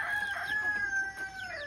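A rooster crows in one long, drawn-out call close by, with chickens clucking softly around it in a farmyard where setting hens are being fed.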